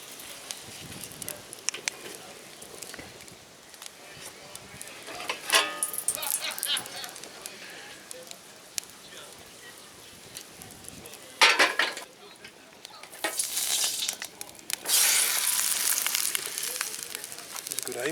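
Extra virgin olive oil heats in a mess tin over a camp stove outdoors at a bushcraft gathering, giving a soft hiss that swells into bursts of louder sizzling and crackling, with metal clinks and a voice talking at times.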